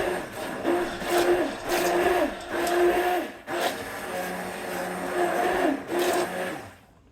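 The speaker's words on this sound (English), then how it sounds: "working it very well with the immersion blender" An immersion blender whirs through a container of tomatoes and spices, its motor rising and falling in repeated loud bursts with brief dips between passes, running alone without talk.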